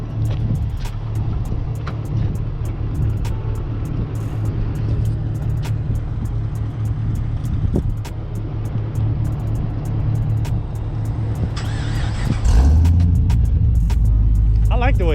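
Chevrolet Caprice PPV V8 with an aftermarket cam and cut exhaust idling nearby, a steady low rumble with slight lope, people talking over it, then a brief louder rev near the end.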